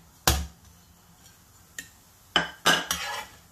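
Cooked Sindhi koki flatbread being lifted from a pan into a bowl, with a few sharp metallic clanks and scrapes of utensil against cookware, close and intermittent in an otherwise quiet kitchen.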